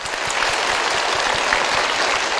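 Dense, steady applause from a studio audience on a Vietnamese picture-puzzle game show, a brief unbroken wash of clapping at moderate loudness.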